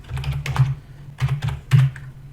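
Close-up typing on a computer keyboard while text is entered into a web page builder, heard as three quick clusters of soft keystrokes over a low steady hum.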